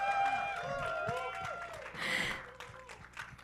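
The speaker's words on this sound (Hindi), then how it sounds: "Can we have a huge round of applause? जोरदार ताली हो जाए गाइस।" A crowd at a Bollywood song launch event for the film Mr And Mrs Mahi breaks into applause and cheering. The clapping swells about midway, mixed with voices and music.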